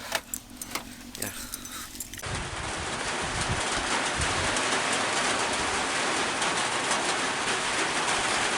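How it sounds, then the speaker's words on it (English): Steady rain sets in after a couple of seconds of scattered clinks and taps, then pours down as a dense, even hiss that stays loud and continuous to the end. "It's a rainy day."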